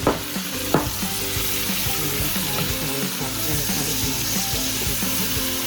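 Beef and diced garlic fry in a pan with a steady, close sizzle and crackle. Occasional clinks and stirring scrapes cut through the sizzle, and no one speaks.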